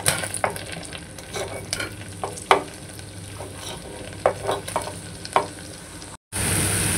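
Mashed potato being stirred into melted butter in a pan, with a spoon scraping and tapping in short irregular strokes over a faint steady sizzle close by, ending in a brief dropout.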